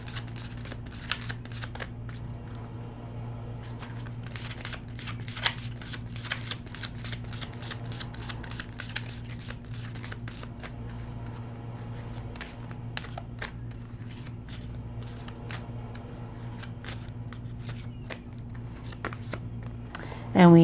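Tarot cards from an Angel Answers deck are shuffled by hand in a soft, steady run of riffling and sliding, with a low hum underneath and sharper card flicks now and then.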